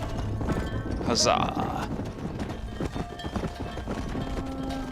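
Horse hooves clip-clopping in the Red Dead Redemption video game, a steady rhythmic trot under a short spoken exclamation and a brief whistle-like cry, continuing at moderate loudness.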